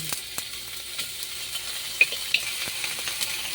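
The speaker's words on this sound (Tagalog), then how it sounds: "pag nagigisa ay inuuna po ang karne na wala pang mantika" Meat searing in a dry, oil-free pan, a steady low sizzle with a few brief pops and stirring clicks, close by with no talk.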